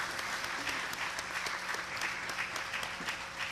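A church congregation claps together, a steady, moderately distant wash of applause that holds evenly throughout with no pauses.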